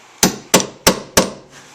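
Four sharp metallic taps on a Toyota Tundra's truck body metal, struck at an even pace, close and crisp, each ringing briefly before the next.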